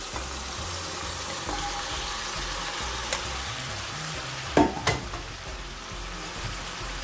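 Ackee and saltfish frying in a pan in a Jamaican home kitchen, a soft continuous sizzle with a few scraping stirs and brief clatters of the utensil against the pan, close by, with no talking.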